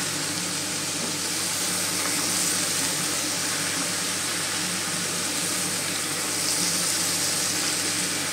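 Ash gourd curry with slit green chillies frying in a pan while being stirred: a steady, fairly loud sizzle and hiss that holds on without a break, with no talking.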